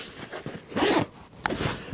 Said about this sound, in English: On this side is another zipper pocket.